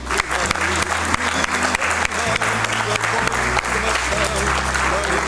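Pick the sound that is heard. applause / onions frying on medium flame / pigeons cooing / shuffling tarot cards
applause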